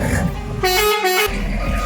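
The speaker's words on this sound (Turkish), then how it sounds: "Arkaya bak kornası bu." A loud, steady reversing warning horn on an Iveco truck blares for about half a second amid engine rumble, with a continuous low drone running underneath.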